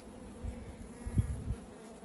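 Honeybees buzz softly in a hive during rehoming, with a low continuous hum that swells briefly in a few louder pulses, close and steady, with no talking.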